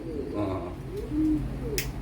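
Domestic flying pigeons give a few soft, low coos up close, with a brief rustle near the end.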